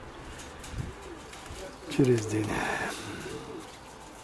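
Pigeons in a pigeon loft with young squabs give a few soft, low coos, one clearer near the middle, while someone talks nearby outdoors.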